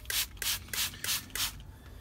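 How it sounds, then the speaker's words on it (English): A handheld spray bottle mists water over young seedlings: five evenly spaced, hissing spritzes in quick succession, close and fairly loud, then a quiet pause. "Give these a bit of a spray."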